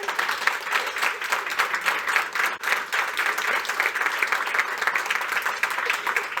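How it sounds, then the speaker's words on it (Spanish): A seated audience at a panel event on Chile's silver economy gives steady, dense applause to the speakers, near and continuous for several seconds with no talking over it. "Les pido un aplauso para ellos, por favor."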